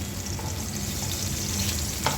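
Teasel gourd frying in a pan, a steady, close sizzle and crackle of hot oil that runs unbroken throughout with no talking.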